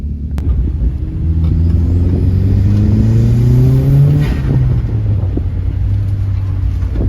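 A turbocharged VW mk4 Jetta pulls hard in third gear, its engine rising in pitch as it accelerates loudly close by, easing off briefly before climbing again, with no talk over it.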